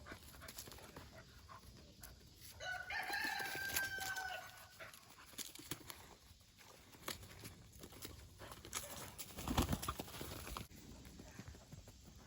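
A rooster crows once in a strained, drawn-out call amid a yard of chickens, followed by scattered clucks, knocks and rustling, with a person talking at times and a beagle nearby.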